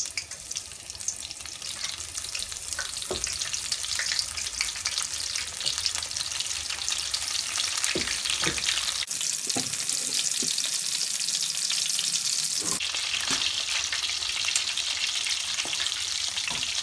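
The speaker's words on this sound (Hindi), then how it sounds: "डिप करके इसे फ्राई कर लेंगे और कुछ मैं ऐसे ही तल लूँगी।" Batter-dipped shrimp tempura deep frying in hot oil, giving a dense, continuous close sizzle and crackle with occasional soft knocks and stirring sounds, no talking.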